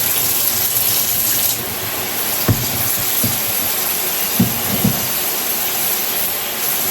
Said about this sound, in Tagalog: Ira-run yung cold water sa pasta.